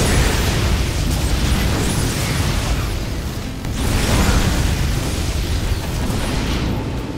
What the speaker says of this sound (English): Watch all those SCVs die.